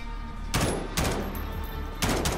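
Gunfire in a Call of Duty Warzone solo match, four sharp, loud shots spaced roughly half a second apart over a constant in-game background hum.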